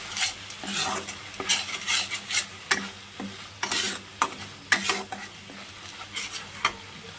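Ground cumin and coriander spices being stirred in a pan for a homemade biryani, with repeated metal spoon scrapes and taps against the pan in an uneven rhythm over a soft sizzle, close up and without talk.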